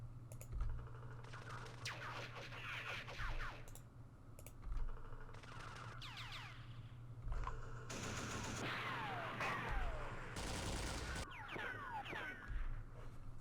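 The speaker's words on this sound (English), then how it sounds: "let's blast them first with our machine guns" Machine gun fire from the Vietnam wargame Campaign Series Vietnam arrives in several rattling bursts mixed with clicking and layered battle effects, moderately loud over a constant low hum.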